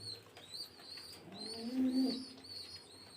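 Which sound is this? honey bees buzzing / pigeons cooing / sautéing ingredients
pigeons cooing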